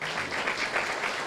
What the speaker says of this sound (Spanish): aplauso al Señor?